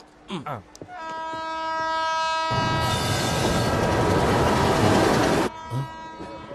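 A train rumbles past close by, a loud broadband roar building and holding for several seconds, with a sustained horn tone sounding over it before fading.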